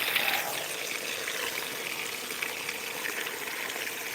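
On a farm, water gushes steadily as a trough or container fills for the animals, a continuous hissing rush at moderate level with no voices over it.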